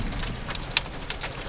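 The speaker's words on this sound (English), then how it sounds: "Now we got some good sized hail hitting us." Hail pounding a car roof and windows during a monsoon storm chase, a dense steady patter of close, sharp ice impacts with a few louder individual hits standing out.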